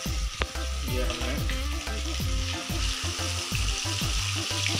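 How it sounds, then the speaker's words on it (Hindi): Fish pieces deep-fry in hot oil with a loud, dense crackling sizzle and rapid bubbling pops, steady and close throughout, with no voices. "ये इसको हम अब डीप फ्राई कर रहे हैं इसको"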